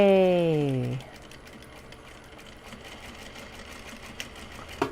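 A sewing machine stitching Japanese fabric gyoza bags, a rising mechanical whir that stops after about a second, then quiet room tone with a couple of small clicks.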